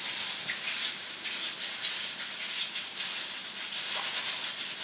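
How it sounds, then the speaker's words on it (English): A pressure cooker on a kitchen stove hisses steadily, its spinning top releasing a continuous airy steam rush at moderate volume with no talking. "the noise you're hearing in the background is my pressure cooker"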